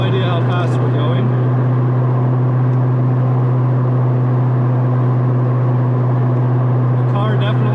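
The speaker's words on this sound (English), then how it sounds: "Shifting through the gears all right." A 1988 Ford Mustang Foxbody driving and shifting through its gears, heard from inside the cabin as a loud, steady engine drone with strong low hum that holds throughout, with no clear breaks between gears.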